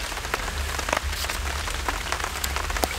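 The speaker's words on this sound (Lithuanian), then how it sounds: "Pliušė lietus." Steady rain pours down at a fishing spot during a bottom-fishing session, a dense, even patter with scattered louder drops striking nearby surfaces, continuous and fairly close throughout.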